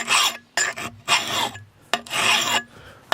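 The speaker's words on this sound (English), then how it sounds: "I'm going to have to do a lot of extra grinding" The bevel of a Husqvarna forest axe is worked by hand, with about five rough, scraping strokes in an uneven rhythm separated by short pauses, close and fairly loud.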